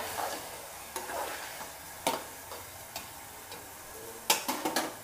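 A spoon stirs ridge gourd masala curry in a pan, with scattered scraping clicks and taps at an uneven pace over a soft cooking background, louder strokes clustering near the end.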